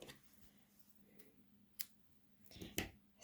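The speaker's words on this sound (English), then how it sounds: "Snip that off." Scissors snip through twine wrapped around a hand during a paper craft project, giving a few sharp, quiet clicks spaced apart, with the loudest cuts near the end in a hushed room.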